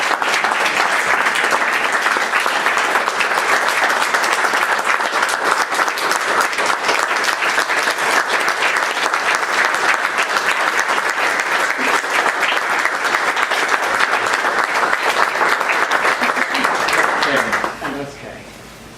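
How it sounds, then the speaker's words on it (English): Loud, sustained applause fills the room at a Santa Monica College regular board meeting, dense clapping holding steady for many seconds before cutting off abruptly, with brief murmuring after. "Let's give another round of applause."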